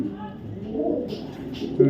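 A knot pigeon gives a brief low coo close by, while a voice talks over it and a soft burst comes near the end.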